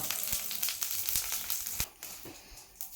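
Sliced tapioca dropped into a hot pan of oil with chili and curry leaves, frying with a loud continuous sizzle and crackle broken by a few sharp clatters, nearby and without speech.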